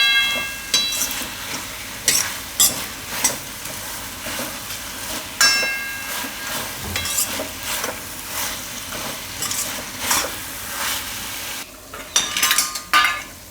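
A spoon stirs papdi muthiya vegetable curry in a pan, with repeated scraping clinks over a steady low sizzle, close and moderately loud.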